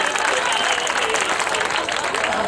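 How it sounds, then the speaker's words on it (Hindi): A crowd at an All India Mushaira poetry gathering in Mau claps for poet Meesam Gopalpuri, a loud, steady wash of applause with voices mixed in. "दोस्तों एक बार जोरदार तालियां मीसम भाई के लिए बजाएं।"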